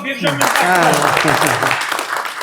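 Wedding guests applaud in a steady wash of clapping, while a voice speaks loudly over it at close range throughout.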